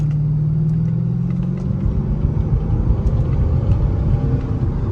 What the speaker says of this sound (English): Not a bad acceleration note by any means here.